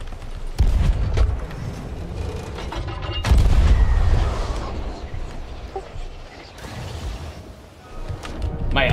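Cannon shots in the pirate ship game Sea of Thieves, several heavy booms landing in a row with rumbling decay, loud over the ship's creaking and wind.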